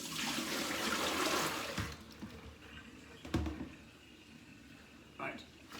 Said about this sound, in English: let's tip this water away